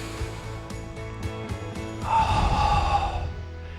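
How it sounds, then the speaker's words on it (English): A deep audible inhale during a seated Swiss ball stretch, a breathy gasp swelling midway and sustained for over a second, close to the mic with a low hum underneath. "Big breath in."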